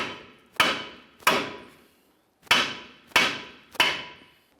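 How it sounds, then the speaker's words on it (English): Five sharp metallic hammer blows strike a steering knuckle on a 2005-2010 Dodge Dakota to free the lower ball joint, close and loud in an irregular rhythm, each ringing briefly before fading. "Let's continue with a hammer again. We're going to cause some vibration in this area, and then hopefully it'll dislodge the knuckle from the ball joint."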